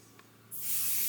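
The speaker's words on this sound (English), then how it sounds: "All right, I've sprayed it." An aerosol spray can hisses into a cardboard box in one steady, loud burst that starts halfway through and keeps going to the end, with a quiet room beforehand.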